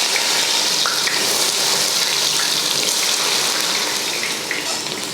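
Chopped onions frying in hot oil with cinnamon, cloves and cardamom for an Ambur chicken biryani, a steady close, loud sizzle with crackling that continues throughout without talk.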